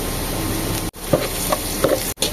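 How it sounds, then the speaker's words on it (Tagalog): Pork cubes with onion and garlic sauté loudly in a pan, a dense close sizzle broken by a few soft stirring scrapes and two brief cuts to near silence, with no speech. "Igisa na po natin ang sibuyas. Ilagay na po natin ang bawang. Ilagay na rin po natin ang pork cubes."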